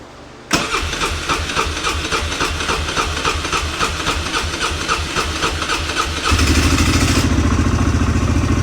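A Polaris Hawkeye mini ATV engine, unused for ten months, cranks and catches, then runs with a fast, even putter on choke, and the idle roughens and deepens toward the end; close and loud, no talking.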